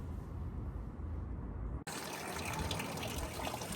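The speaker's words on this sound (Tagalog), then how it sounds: "ng tubig na galing sa fountain" Water from a fountain in Yerevan in winter gushes in a steady, noisy spray, with a brief break before the flow resumes brighter and louder.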